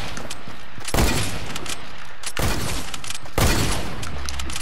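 Sniper rifle shots in Fortnite crack out loud and close, three sharp blasts spaced about a second or more apart, each with a short booming tail over steady game noise.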